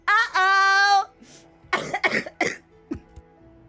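A coughing fit: a long hoarse retching heave, then several harsh, explosive coughs in a ragged burst, close to the microphone, with no talking.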